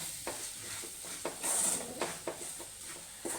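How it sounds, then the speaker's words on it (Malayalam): Masala powders for a Kerala egg curry are stirred in a pan, a quiet scraping with soft sizzling, spoon strokes coming in an irregular rhythm of about six or seven over a few seconds. "എന്നിട്ട് നമുക്ക് നന്നായി ഇളക്കി കൊടുക്കണം."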